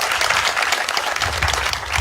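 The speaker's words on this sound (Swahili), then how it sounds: "Sisi tupigie walimu wetu makofi." Dense, continuous applause from a crowd at a graduation ceremony, honouring the teachers, close and loud throughout the short span.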